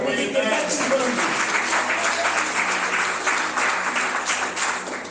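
A church congregation claps and cheers in a loud, sustained wash of applause with mixed voices shouting, filling the room for several seconds.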